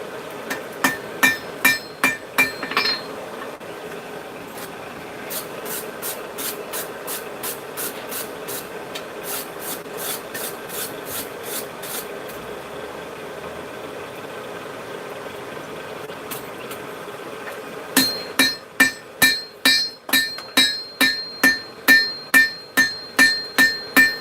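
Hammer blows ring out while a San Mai billet is forge welded, coming in quick bursts of sharp strikes with a quieter stretch in the middle and the forge roaring steadily underneath.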